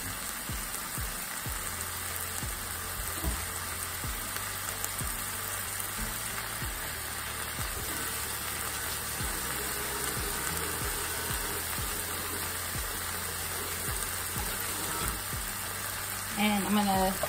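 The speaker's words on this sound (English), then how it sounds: "And I'm gonna saute this up a bit." Chopped onion and jalapeno sautéing in a hot pan, a steady broadband sizzle running throughout with occasional stirring clatter and a louder burst near the end.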